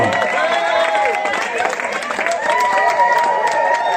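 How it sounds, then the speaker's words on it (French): Congregation at a church wedding clapping and cheering, a dense continuous wash of applause and voices filling the space at steady loudness, with singing or shouting mixed in throughout. "Encore des acclamations."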